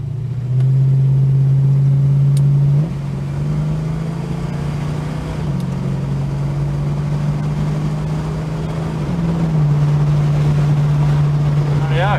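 A Holden HK 253 V8 car drives along a test road, its engine droning steadily from inside the cabin and stepping through gear changes, with wind and road noise underneath.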